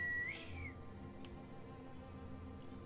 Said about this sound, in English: Can we whistle?